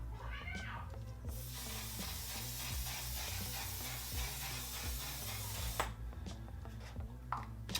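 Patrick Star On Till Dawn setting spray mists onto a face in one long, steady hiss lasting several seconds, partly masked by music playing throughout.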